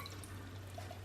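Liquid pours steadily into a measuring jug in a short continuous stream, a soft watery hiss with a low hum beneath, close and quiet, no talking.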